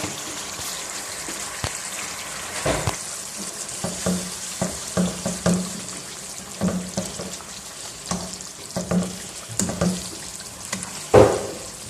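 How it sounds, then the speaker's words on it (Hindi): Spinach and fenugreek leaves sizzle in fried masala in a pan of Pakistani methi palak. The frying hiss is steady, and a spoon scrapes and stirs at an uneven pace throughout. "अभी हम इसको इसके अंदर अच्छी तरह पकाई करेंगे ताकि हमारा साग जो है इसके अंदर भी जो पानी है वो भी खुश्क हो जाए"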